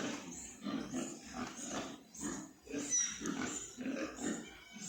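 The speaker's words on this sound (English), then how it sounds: "The pigs are all fed." Pigs on a farm grunting and snorting in repeated bursts, several close and fairly loud animals with short pauses between calls, no talking.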